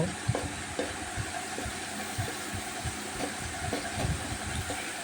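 Chopped large onion frying in cooking oil, a soft continuous sizzle with faint periodic stirring knocks underneath, fairly quiet and close.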